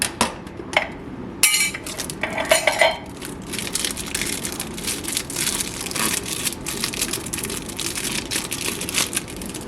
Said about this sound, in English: We'll use the regular can opener. Much cleaner edge.